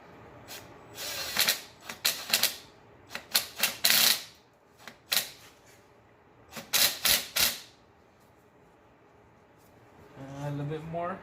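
A wrench clicks in quick ratcheting bursts as it turns the crank bolt on a 1998 JDM Subaru Legacy wagon's 2.0L engine, with short clustered rounds of mechanical clatter, pauses between them, and a voice speaking near the end.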